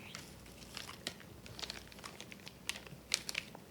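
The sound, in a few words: person chewing food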